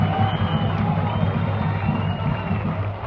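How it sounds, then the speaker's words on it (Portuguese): A crowd applauds and cheers at the Campinense football club's squad presentation, a dense, steady roar of hands and voices with an announcer speaking over it. "Uma salva de palmas."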